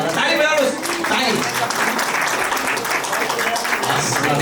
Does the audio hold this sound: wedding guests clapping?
yes